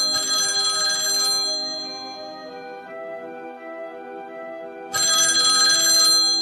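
An indoor telephone rings loudly and close, with one long electronic trilling burst, a short quieter pause, then the ringing starts again.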